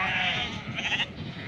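Sheep on a farm at shearing time bleat in a close, steady chorus, with one wavering call rising above a continuous background of the flock.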